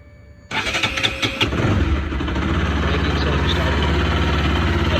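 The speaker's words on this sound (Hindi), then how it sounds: "अब मैं आपको आवाज़ सुनाता हूँ स्टार्ट करके।" A Bajaj Pulsar RS200 motorcycle, checked for an engine noise problem, cranks and fires after a short quiet moment, then settles into a loud, steady idle that runs on close by.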